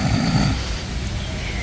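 A sleeping person snores with a low, rough rasp, loudest in the first half second and then trailing into a quieter rumbling breath, close and alone.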